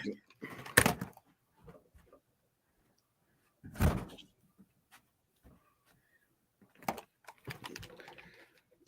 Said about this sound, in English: Hold on, let me close the door.